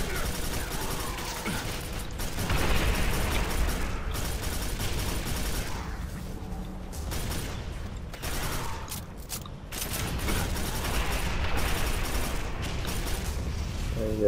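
A Chaingunner enemy in Quake 4 (2005) fires its chain gun in loud, sustained, rapid bursts. The fire runs almost unbroken for about fourteen seconds, over dense, booming game combat noise.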